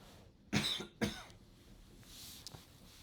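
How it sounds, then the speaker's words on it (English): Two distinct coughs from one person close to the microphone, about half a second apart, followed by quiet room tone and a faint short click. "I had to cough"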